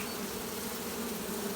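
Honeybees emerging from brood comb inside a hive during the start of a fall honeyflow make a steady, dense buzzing hum that stays even and unbroken throughout, close and moderately quiet with no voices.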